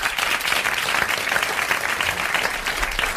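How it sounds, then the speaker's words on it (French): Studio audience at a 1981 French television game show breaks into lively applause for a contestant, dense, continuous clapping with crisp individual claps throughout. "Monsieur Lambert d'Auchan a mérité vos applaudissements et 500 francs."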